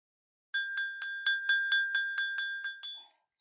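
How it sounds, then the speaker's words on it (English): A small bell is struck about eleven times in a steady, quick rhythm during a tarot reading. Each bright, ringing tone decays briefly before the next strike, close and clear against silence. "The only thing that I did not do was ring this bell"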